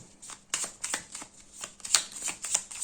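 Oracle cards being shuffled, giving a run of crisp riffling flicks and slaps in an uneven rhythm, close and clear, with no talk.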